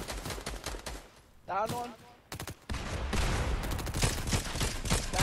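Gunfire in the Fortnite video game, dense rapid bursts of shots crackling close and loud, breaking off briefly before resuming as a sustained volley, with players talking over it.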